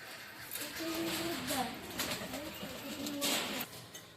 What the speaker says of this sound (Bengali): তো চলুন পায়রাটা ছেড়ে দেখাই আপনাদেরকে